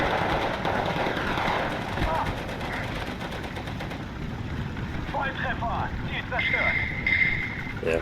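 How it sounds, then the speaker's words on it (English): Rapid machine gun bursts rattle through a Steel Division 2 battle around houses, mixed with distant engine rumble and scattered battlefield noise under a player's ongoing commentary. "MG should be able to set up and kill soon."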